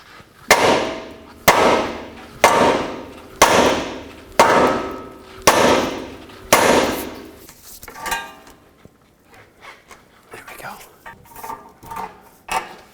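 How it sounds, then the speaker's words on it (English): Seven loud, sharp metallic hammer blows on a 2004-2008 Acura TL front steering knuckle to separate the control arm from the ball joint, evenly spaced about a second apart, then quieter clinks and shuffling. "take a hammer, hit the knuckle so that you can separate the control arm from the ball joint"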